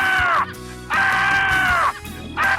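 A rescued sanctuary bird lets out loud, drawn-out screeching calls, two long harsh screams with a third starting, close by.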